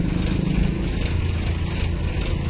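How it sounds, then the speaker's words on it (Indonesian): Motorcycles leaving the Bakauheni ferry port at night, a close, continuous engine rumble with a low, throbbing idle and no speech. "Pantau motor keluar."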